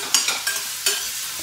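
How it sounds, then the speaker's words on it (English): Large chunks of onion sauté in a tablespoon of sesame oil in a pan. A soft sizzle runs throughout, with quick scraping stir strokes coming in short bursts about every few tenths of a second. "in a pan he adds in a tablespoon of sesame oil, with one large onion which is cut in big large chunks"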